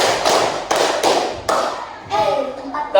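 Students in a classroom clap in quick counted bursts during a warm-up clapping game, with short pauses between groups and a voice calling out between the claps.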